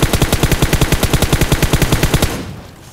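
Rapid automatic gunfire in a battle-royale video game, a loud, close burst of evenly spaced shots that stops abruptly and leaves a short fading tail.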